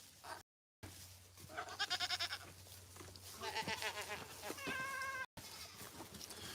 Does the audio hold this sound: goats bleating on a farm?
yes